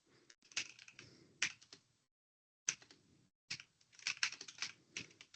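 Someone types on a computer keyboard, sending out quick clattering bursts of keystrokes in two runs split by a short pause. The keys sound close and crisp with nothing else underneath.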